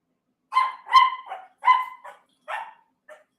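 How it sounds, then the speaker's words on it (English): Two dogs, Scotch and Bernie, bark nearby in a quick series of about six sharp barks with short gaps between them, and no one speaks. "We got Scotch and Bernie barking."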